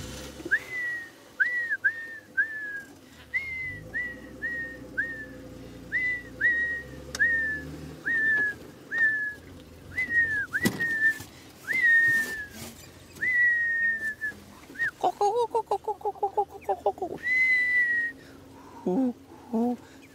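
A person whistles a series of short, falling plaintive notes in a repeated rhythm, imitating a hornbill call, followed by a rapid warbling burst.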